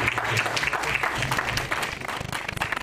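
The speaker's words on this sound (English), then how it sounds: "Let's give a hearty clap for Moses as he comes to this" An audience at a live-streamed presentation event applauds steadily, a crowd of clapping hands close and continuous, thinning slightly toward the end.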